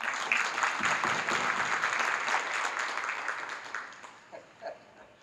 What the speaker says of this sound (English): Can we clap it up for Dave's mom?